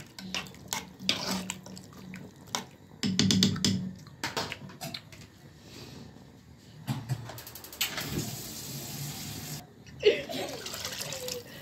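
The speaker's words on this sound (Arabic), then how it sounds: "هنزودها شوية مية بقى." Water pours and splashes into a cooking pot of a simmering potato stew, coming in a few uneven bursts with clattering and scraping in between, fairly close and moderately quiet.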